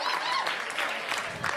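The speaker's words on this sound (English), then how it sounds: "Man, round of applause." Applause from a stand-up comedy audience, a steady, moderately loud wash of clapping across the whole moment, with some voices mixed in.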